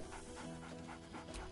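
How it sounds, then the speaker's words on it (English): Scratch, the dog in Baldur's Gate 3, pants quietly in quick, rhythmic breaths, soft and close, over a faint steady background tone. "Scratch barks merrily and he whines."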